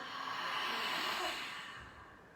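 One soft, close cleansing exhale through the nose during a yin yoga breathing exercise, a breathy airy rush that swells and then fades over about two seconds.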